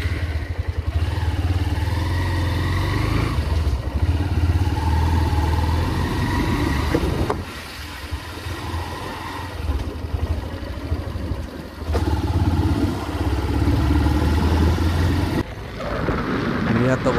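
Motorcycle engine drones steadily during a road ride toward a rural temple, a loud low rumble with wind buffeting the microphone, easing off briefly in places before pulling again.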